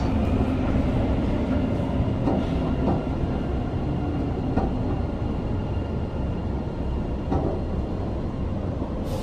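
Inside a Sillim Line light metro train in Seoul, a loud, steady rumble of wheels and motors fills the cabin continuously, with faint clicks over the constant roar and no voices.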